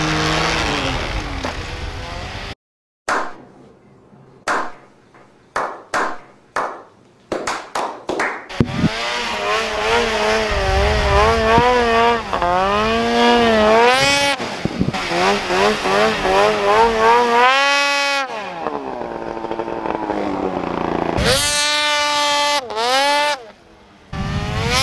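A snowmobile engine revs hard during wheelies in an open field, loud and close with repeated rising and falling whines, choppy bursts early on, then sustained high-pitched screaming revs.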